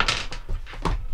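A campervan kitchen cupboard door being shut and latched, giving several short wooden thunks and knocks spread across a second or so, close and fairly loud with no talking.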